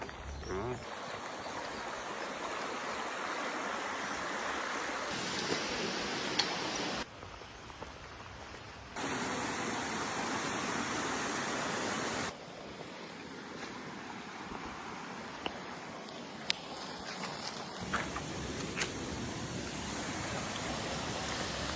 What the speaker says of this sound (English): Is the main attraction, the largest waterfall here.